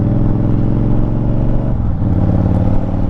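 A Honda Fury motorcycle engine on a night ride, a loud, close, steady low rumble that dips briefly in pitch midway as the rider shifts or eases off, then resumes.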